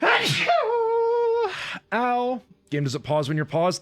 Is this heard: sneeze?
yes